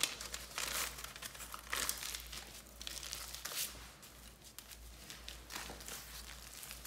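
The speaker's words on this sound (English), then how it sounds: "And folding this foil up." Hair-highlighting foil being folded gives close, irregular crinkling and crumpling in short bursts over a faint low hum.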